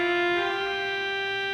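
Pipe organ on a loud, bright stop holding a single rich, buzzy chord, strong at the onset and sustained evenly without any talking.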